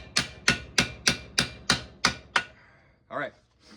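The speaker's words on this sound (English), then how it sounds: "we want it to be nice and tight like this, because we're gonna just hammer it down for the rest of it." A spearhead being hammered down onto a wooden dowel rod: eight sharp, evenly spaced metal-on-wood strikes in quick rhythm, loud and close, followed by a brief scrape.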